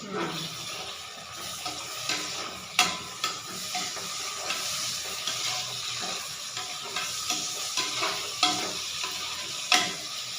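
Tomatoes fry in oil for a traditional fish curry, giving a steady crackling sizzle with repeated sharp spatula strikes and scrapes at irregular intervals, close to the pan.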